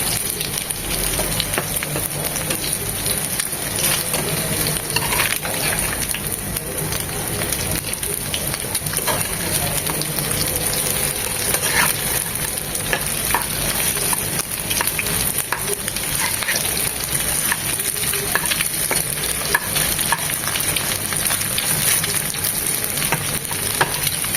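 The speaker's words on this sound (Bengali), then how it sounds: "বাকিগুলো করে দেব চার পাঁচ মিনিট এক পাশ ভেজে নিয়ে তারপর ওটা সরতে দেবো" Cornflour-and-egg coated beef pieces frying in a pan of oil, a dense, steady crackling sizzle held close for a long stretch, with occasional stirring scrapes and no talk.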